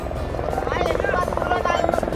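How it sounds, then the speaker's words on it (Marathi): Helicopter at the Kedarnath helipad in the Himalayas, its rotor throbbing steadily at mid distance throughout, with people talking over it. "हे हेलिकॉप्टर बघू शकतो तुम्ही."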